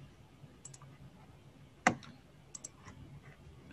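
A single sharp computer mouse click registers on an add button during a HikCentral V2.0 security-software session, loud and isolated against a faint room hiss, with a couple of softer ticks later.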